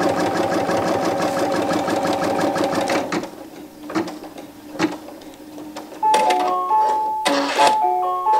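A home embroidery machine stitches quilt fabric in the hoop, a loud, steady mechanical whir for about three seconds, then short stops and starts with a few high electronic beeps near the end.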